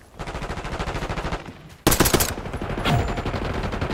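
Automatic SMG gunfire in Call of Duty Black Ops 6, rapid loud bursts filling the whole stretch, with a sharper, heavier volley cutting in about halfway through.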